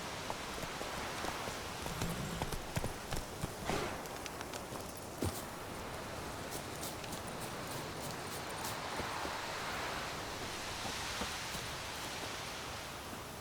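Hooves of Roach, the horse in The Witcher, clip-clop at an even pace throughout, moderately close and set against a constant hissing outdoor ambience.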